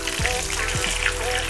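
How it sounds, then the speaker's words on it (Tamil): Marinated prawns frying in hot oil in a home kitchen, a steady dense crackle and sizzle close by with a couple of faint low knocks, continuous throughout. "அந்த எண்ணெயில் பொரித்து எடுக்க போகிறோம்."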